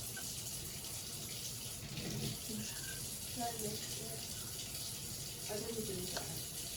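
Water runs steadily from a kitchen tap while waiting for it to warm for pizza dough, a continuous soft hiss with faint voices talking underneath.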